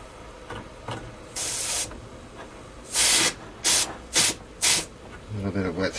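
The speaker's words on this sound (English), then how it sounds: "A little bit of wet steam there." Wet steam hisses from the boiler of a model steam engine, a Stuart Meteor with dual boiler in a Spanish Streamlinia, in one long burst and then several short loud spurts, ending with a soft chuffing rhythm.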